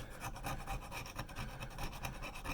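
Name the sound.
scraping old gasket off element base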